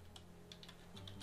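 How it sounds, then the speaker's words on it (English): Keys clatter on a computer keyboard while setting up a world in the survival game Raft, a short quiet burst of quick taps with no voices. "what am I typing?"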